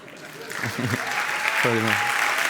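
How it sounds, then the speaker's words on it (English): An audience at a talk claps and cheers, a steady wash of applause filling the moment while a voice speaks briefly over it. "You can clap and cheer if you want."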